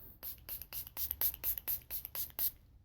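Revolution Pro Fix Oil Control setting spray is pumped in about ten quick, soft hissing bursts, close and quiet, in an uneven rhythm.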